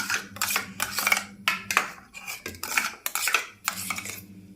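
Macaroni being mixed with ketchup, mayonnaise and pizza pasta sauce in a bowl, heard as close, repeated scraping and clinking of a spoon against the dish in short uneven strokes.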